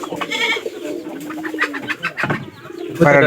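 Pigeons coo in low, rolling bursts close by, with other birds and faint background sounds mixed in.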